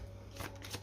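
Oracle cards being shuffled, a brief quiet riffle with two soft papery bursts of flicking over a faint steady hum.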